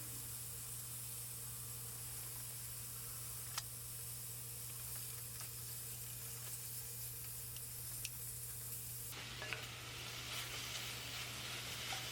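Lamb tagine stirred and turned over in a cast iron pot: a steady, quiet hiss of sizzling with a low hum underneath and a few faint clicks of the spoon, no talk.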